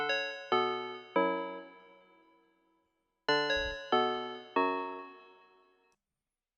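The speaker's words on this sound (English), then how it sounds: "I was using this pluck in Serum" A bright plucked synth from the Serum plugin plays a simple repeating chord progression, each chord struck sharply and decaying quickly, in two phrases of three chords separated by a short pause, clean and alone.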